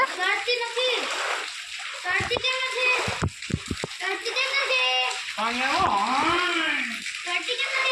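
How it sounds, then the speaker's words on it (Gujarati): Children splash and play in rainwater that has flooded a yard after monsoon rain, with bursts of splashing and slapping water close by, mixed with children's excited voices and chatter throughout. "અહીંયા પાણી ભર્યું ફરિયામાં, એટલે એને સ્વિમિંગ પુલની જેમ નાહવાની મજા આવે"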